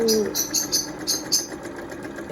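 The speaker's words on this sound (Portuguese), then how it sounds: "Eu utilizo o ponto normal da máquina." A sewing machine runs a plain straight stitch at stitch length 2.4, making a rapid rhythmic clatter in short repeated bursts, steady and close.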